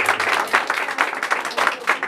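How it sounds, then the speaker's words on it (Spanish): Guests at a quinceañera mariachi serenade clap loudly for the birthday girl, with close, dense applause pulsing in uneven waves throughout. "Un aplauso para ella"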